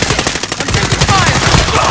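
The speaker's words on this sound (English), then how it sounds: "I'm taking fire!" Rapid automatic gunfire from enemies shooting at the player in a video game, loud and close, a fast stuttering stream of shots with a faint whizzing tone partway through.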